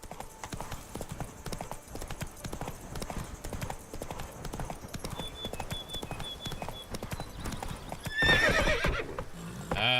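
A horse in the Witcher 3 video game clops along in a steady close hoofbeat rhythm, then lets out a loud whinnying neigh near the end, with faint game ambience underneath and no speech.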